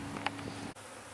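Honeybees from a newly installed nuc buzz at an active beehive, a faint, close hum with a short, brighter burst from a bee passing near.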